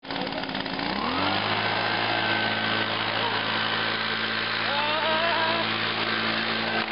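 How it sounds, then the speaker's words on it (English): A leaf blower rigged to push a skateboard starts up and then holds a loud, steady motorised whine and drone, close by, with faint voices underneath. "So we got a leaf blower."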